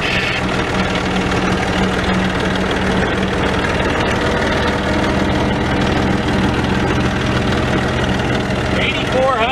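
A 1998 John Deere 5310 diesel tractor fitted with a front loader idles nearby with a steady, low, slightly knocking rumble, while a person talks over the engine noise.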